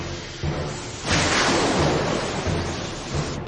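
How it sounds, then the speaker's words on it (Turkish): A cartoon thunderstorm, a geomagnetic storm, swells into a loud broadband roar of rumbling thunder and rain, peaking after the first second and sustaining a dense, noisy wash to the end with no voices. "Bu bir jeomanyetik fırtına."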